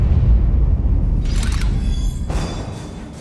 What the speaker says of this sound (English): And we're here on the bottle ship, and there are explosions